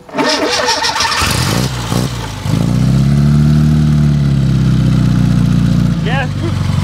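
Close by, a 1972 Fiat 850 Sport Spider's small engine cranks, catches and settles into a throbbing idle with a few revs, as people talk over it at the start.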